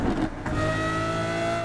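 A Lamborghini Aventador V10 engine revs in a video game, a loud, sustained tonal drone that rises slightly after a short dip, with no talk over it.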